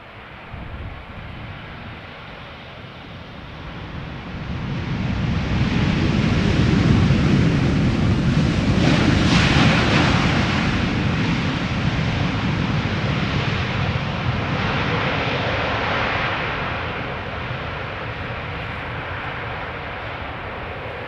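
An EasyJet Airbus A320neo airliner arriving from Prague lands at Amsterdam Schiphol Airport, a broad, steady jet roar that swells to a loud peak midway and then eases slowly, with wind buffeting the microphone throughout.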